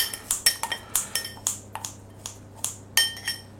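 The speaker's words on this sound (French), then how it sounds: "Alors, vous mettez le persil dans un verre." Parsley is snipped with scissors inside a glass, producing a quick series of sharp metallic clicks and glassy clinks, close and irregular, with brief pauses between bursts of cuts.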